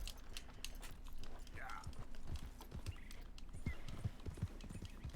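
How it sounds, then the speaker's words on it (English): Horse hooves clip-clopping in Red Dead Redemption 2, a soft, irregular series of low thuds under quiet background ambience, with a brief higher squeal partway through. "let's brush this bloody horse"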